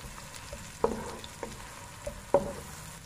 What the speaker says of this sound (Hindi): एक क्रश प्याज मैंने लिया, इसको मैं शामिल करूँगी। इसको लाइट ब्राउन करूँगी।